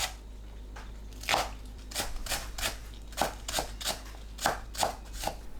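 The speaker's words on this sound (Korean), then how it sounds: "시금치 뭉친 곳을 풀고 4cm 간격으로 썰어주세요. 파를 작게 썰어줍니다." Knife chopping spinach and green onion on a cutting board, a run of sharp, fairly regular taps close by with brief pauses between bursts, no talking.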